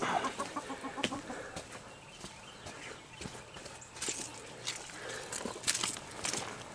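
Hens cluck and squawk intermittently in a backyard flock, short scattered calls at moderate distance over faint outdoor background noise, with no speech.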